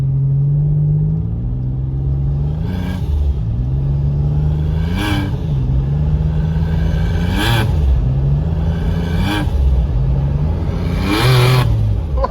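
A Mitsubishi Pajero engine that is knocking hard, revved aggressively in a series of about five rising blips over a loud, deep idle rumble, heard up close.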